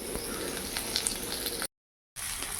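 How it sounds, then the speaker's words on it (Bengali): Okra frying in a pan gives a steady, close sizzle with faint crackles throughout, broken by a brief moment of silence near the end. "ঢ্যাঁড়সটা মানে ইয়ে করে নিচ্ছি আর কি ভেজে নিচ্ছি"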